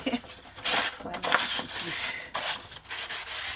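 A blade slices through scrapbooking paper in repeated scraping strokes, dry and close, with short pauses between passes; the blade is dull and due for changing.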